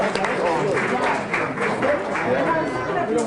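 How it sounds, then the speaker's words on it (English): Audience applause at a West Orange, New Jersey town council meeting honoring a state championship wrestling team, a steady dense clapping from a crowd that holds at an even level throughout. "Let's give them a round of applause"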